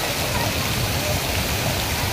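Steady rain pours down outdoors during the first monsoon rain, near a jackfruit tree where children are playing, making a dense, continuous hiss that stays at an even level throughout.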